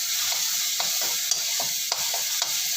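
Tamarind is sautéed in a hot pan, producing a continuous bright sizzle punctuated by regular spatula scrapes and taps roughly every half second, close and alone.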